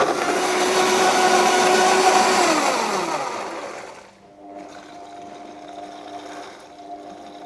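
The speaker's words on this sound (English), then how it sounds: "offcuts of fish and scallops are blended completely into the marinade" Blender whirring loudly as it purees fish offcuts and scallops into a Peruvian ceviche marinade, a steady high motor whine that winds down after about four seconds to a quieter lingering hum.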